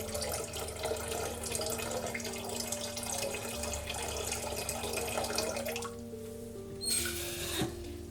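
Running water rinses and swishes vitreous enamel grains in a workshop, a close, continuous splashing trickle that drops off near the end, leaving a few faint drips and small knocks.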